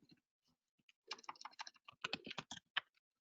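A computer keyboard tapped in a quick, irregular burst of clicky keystrokes, close and clear, entering a database update query after a few scattered single taps.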